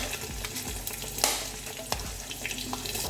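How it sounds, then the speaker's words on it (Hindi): Sliced onion sizzles in hot oil in a pot with cardamom, cloves and bay leaves, a steady close frying hiss broken by a few stirring scrapes. "इसमें ऐड करेंगे स्लाइस किया हुआ प्याज"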